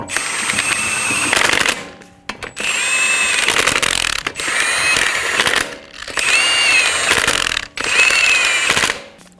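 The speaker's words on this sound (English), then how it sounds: "Snug down the lug nuts." A power ratchet spins lug nuts snug on a 2007-2011 Toyota Camry wheel during a front strut replacement, four loud, close whirring bursts of a few seconds each, separated by brief pauses.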